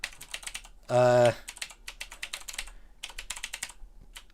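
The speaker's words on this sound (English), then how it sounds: "I'm having to type it because it won't let me copy and paste." Keys on a computer keyboard tap in quick irregular bursts, broken by a brief loud tonal beep near the start, then resuming in clusters of clicks at close range.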